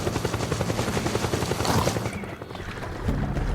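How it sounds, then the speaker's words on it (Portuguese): A helicopter in the video game Metal Gear Solid 4 thumps overhead in a rapid rhythmic rotor beat, loud and close, with a burst of gunfire-like noise partway through. "Cara, tá incomodando esse helicóptero."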